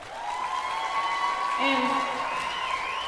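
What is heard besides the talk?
audience applause for the children's choir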